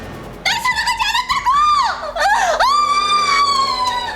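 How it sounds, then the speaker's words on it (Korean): A woman screams terribly in a Korean KBS drama, with long, wavering, high-pitched cries rising and falling loudly over several seconds and barely a pause between them. "여자는 끔찍한 비명을 지르면서 문 밖으로 사라져버렸다."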